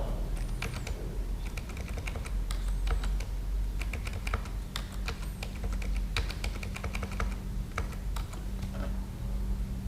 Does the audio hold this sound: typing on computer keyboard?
yes